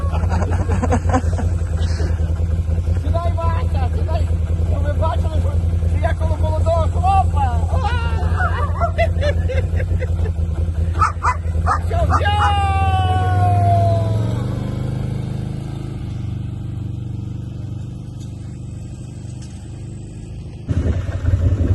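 A quad bike (ATV) on a mountain ride, its engine giving a loud, steady rattling drone that eases somewhat toward the end, with people talking and exclaiming over it.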